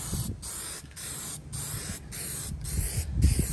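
Rust-Oleum hammered spray paint is sprayed onto a truck in about six close, steady hissing bursts separated by short pauses, with faint background rumble and no speech.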